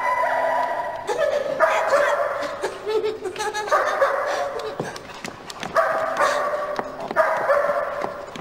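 Rex, a German Shepherd police dog from the Austrian crime series, barks repeatedly in short bursts throughout, loud and close, with yips mixed into a busy indoor scene.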